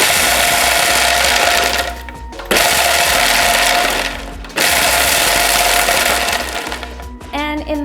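A countertop blender, not a Vitamix, purees soaked cashews for queso in three loud, close whirring bursts separated by short pauses, ending in a brief clatter.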